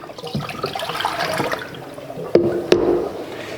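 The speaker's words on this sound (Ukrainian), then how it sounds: "Зливаємо воду, тому що там вона буде ще, можливо, трошки з вугільною пилью." Water draining and splashing out of an unscrewed reverse osmosis filter housing during cartridge replacement, a steady close pour with a couple of sharper splashes near the end.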